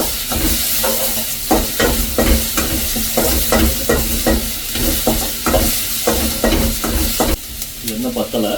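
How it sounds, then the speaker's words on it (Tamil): Sliced big onions and curry leaves crackle and sizzle loudly in hot oil for a bachelor-style prawn thokku, with a steady hiss broken by rhythmic scraping as the pan is stirred again and again. "இப்போ நம்ம கட் பண்ணி வச்சிருக்க பெரிய வெங்காயத்தை நம்ம இதில் ஆட் பண்ணலாம்."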